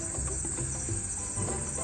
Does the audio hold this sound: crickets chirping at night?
yes